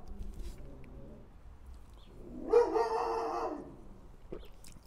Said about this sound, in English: Hopefully the neighbor dog will stop barking in a moment.